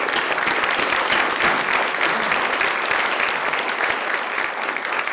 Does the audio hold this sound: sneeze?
no